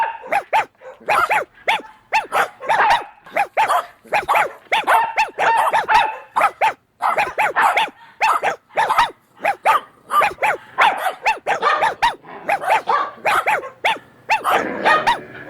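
A dog barks over and over in loud, close, rapid bursts, sometimes with short growly yips, filling the whole stretch with only brief pauses and no talking.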